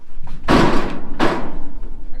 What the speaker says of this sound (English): he's about banging the walls of the pen now